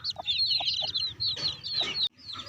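A free-roaming desi hen in a Punjabi village gives a series of short, close clucks and higher squawking calls in uneven bursts, alone and fairly soft.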